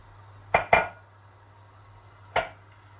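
A metal spoon stirring chicken vermicelli soup in a pot gives three sharp clinks against the side, two close together and a third a moment later, with quiet in between.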